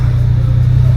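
A Ford Bronco Raptor off-road vehicle's engine gives a steady, loud, close low rumble throughout, without a clear rev rise.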